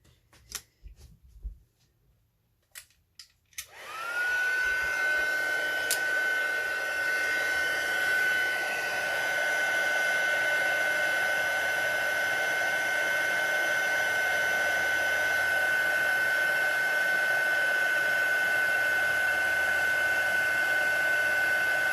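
A heat gun roars on after a few seconds of quiet rustling and runs as a steady, loud blowing hiss with a faint whine, melting embossing powder on a handmade Christmas card of patterned designer paper.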